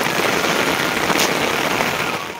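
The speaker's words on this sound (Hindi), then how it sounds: "ये देखो इतनी भयंकर वाली बारिश लगी है" Heavy rain pours outside in a steady, dense hiss that fills the whole stretch at close range with no pauses, with no voices over it.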